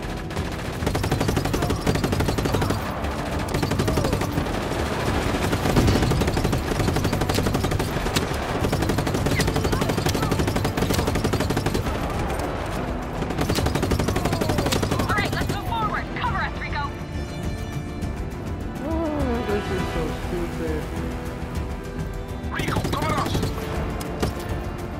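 Rapid machine-gun bursts and scattered gunshots crackle almost without pause in the Just Cause 3 video game, loud and dense across the whole stretch, while voices talk over the shooting.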